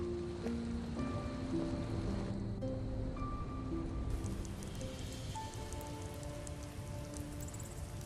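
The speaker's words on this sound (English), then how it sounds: "At least the rain provides some cover." Steady rain falls in the video game Skyrim, a continuous hiss of drops over layered game background tones, even and moderately soft throughout with no talk.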